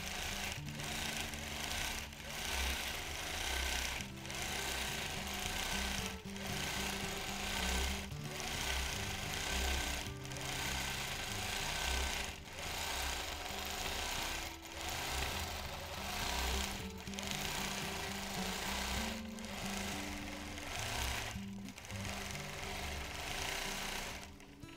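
Vintage sewing machine stitching a double feather quilting pattern to tame excess fabric, a continuous close rhythmic whir with faint periodic clunks throughout, no talking.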